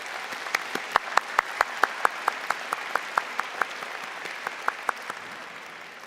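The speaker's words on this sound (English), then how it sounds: "And I'd ask you to join me in a round of applause for Dr. Warrior." An audience at a spring convocation ceremony claps steadily, with sharp individual hand claps ringing out over a softer bed of applause that thins and fades toward the end.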